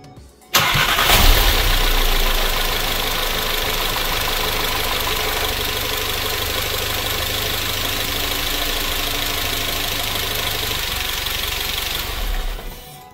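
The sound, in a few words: VW Golf 7 GTI 2.0 TSI engine starting and idling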